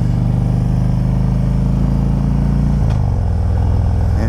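A Harley-Davidson Street Glide motorcycle is being ridden, its engine note holding a steady, loud, close drone that shifts down in pitch partway through, with no talking.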